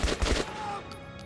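A machine gun turret in Metro: Last Light fires a short rapid burst of several shots up front, then its echo rings out and trails off.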